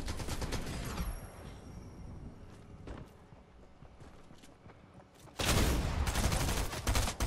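Gunfire in the Fortnite battle royale video game, played on PS5, comes as dense rapid bursts at the start, a quieter stretch with a few isolated shots, then a loud sustained volley near the end.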